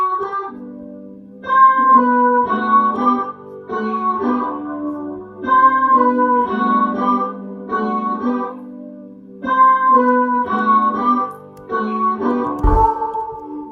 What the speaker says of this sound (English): So yeah, we have these guitars going on here.